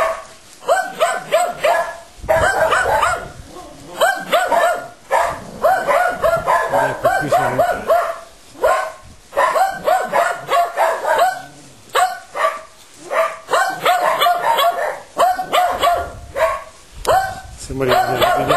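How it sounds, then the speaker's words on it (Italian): Several dogs bark repeatedly in short bursts, fairly close, among old houses below town walls, with a person talking over them throughout. "Vedete, i cani ci fanno compagnia."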